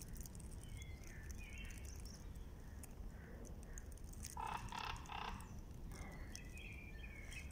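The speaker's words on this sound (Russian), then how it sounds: "Птицы очень активно, слышите, как поют" Spring birds chirp and trill in short, scattered calls over a steady outdoor background hiss, fairly faint and distant, with a brief louder burst of song midway.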